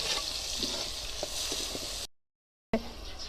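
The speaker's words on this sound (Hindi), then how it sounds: "और 3 से 4 मिनट अच्छे से इसको भी फ्राई कर लेंगे।" Fish salan masala with onions, tomato and green chillies frying in a pan, a steady close sizzle with light stirring clicks, cut briefly by a short gap of silence.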